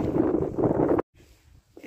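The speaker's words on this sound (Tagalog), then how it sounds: "Malakas yung hangin." Strong winter wind buffets an outdoor microphone in a roaring, broadband rush for about a second, then cuts off abruptly, leaving only faint low rumbling and a brief return of gusting at the end.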